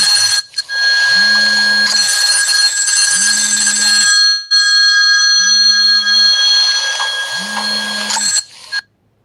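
An office telephone rings close and loud in four evenly spaced electronic bursts, each one a warbling buzz about a second long, with a steady high hum underneath the whole time.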